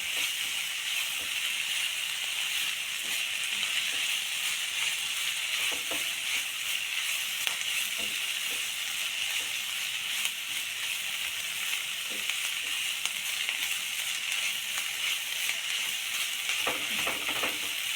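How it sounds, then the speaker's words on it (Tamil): Spinach greens sauté in a pan with an even, continuous hiss and sizzle that stays close and fairly loud throughout, broken by occasional scraping ticks of stirring. "இதில் போட்டு ஒரு டூ மினிட்ஸ் நல்லா வதங்கினாலே இது வந்து நல்லா சீக்கிரமாக வதங்கிடும்"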